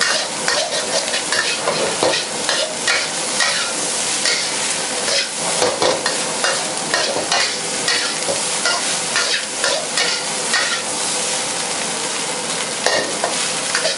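Loud continuous sizzling and scraping as fried rice with Chinese kale and salted fish is tossed and stirred in a wok over high heat, with steady crackle throughout and no talking.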